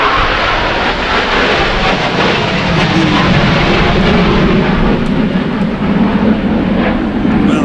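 Blue Angels military jets roar overhead in a loud, sustained broadband rumble that stays steady and close for the whole stretch, with no talking.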